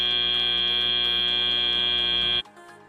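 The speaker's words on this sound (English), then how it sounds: "as the buzzer sounds" FTC robotics match end buzzer at an Into The Deep interleague event: a loud, steady electronic tone held for over two seconds before cutting off abruptly into quieter arena noise.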